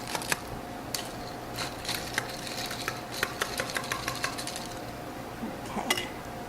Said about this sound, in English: I want to give it a quick stir.